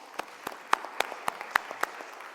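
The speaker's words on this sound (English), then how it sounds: "let's give our panelists a big hand of applause." Sparse applause for conference panelists at a trade and investment gathering: a handful of distinct, sharp claps in a slow, fairly regular rhythm over a quiet hall.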